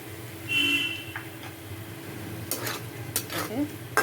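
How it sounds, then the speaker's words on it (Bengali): Potatoes and onions fry with salt and turmeric and no water in a pan for chire pulao, a flattened-rice dish. A close sizzle runs throughout, with a burst of spatula scraping and stirring near the end. "ভালো করে ভাজা ভাজা করে নিতে হবে এটার মধ্যে কিন্তু জল দেওয়া যাবে না"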